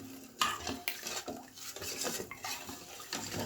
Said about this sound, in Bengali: চিনিটা যতক্ষণ গলা না হবে ততক্ষণ আপনি এটাকে নেড়ে দেবেন।